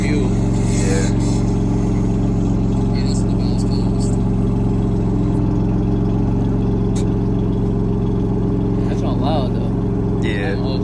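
A BMW M4 with a catless downpipe rumbles and revs at a car meet, a loud, steady, raspy exhaust drone close by while people talk over it.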